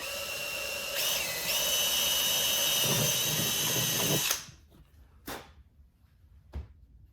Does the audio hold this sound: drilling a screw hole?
yes